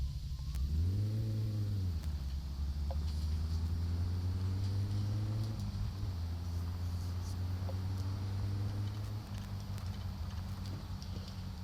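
A Satsuma car engine in My Summer Car revs up and holds a steady droning pitch as the car accelerates on a test drive, close and continuous, with the note rising early and then climbing slowly.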